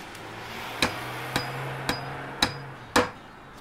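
A hammer strikes beams five times at steady, roughly half-second intervals in the building game Demolish & Build 3. Each blow is crisp and close, with no talk over it.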